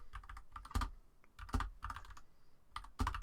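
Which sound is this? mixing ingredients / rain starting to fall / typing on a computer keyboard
typing on a computer keyboard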